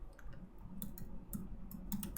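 Computer keyboard typing during an online class, a handful of light keystroke clicks in small clusters over a steady low background hum, close but faint.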